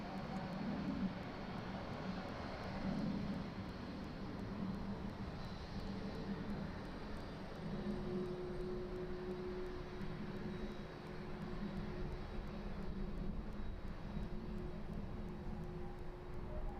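A Boeing 767 taxis out toward runway 27 at an airport, its engines giving a steady, moderately distant rumble with a faint whine held level throughout, no voices over it.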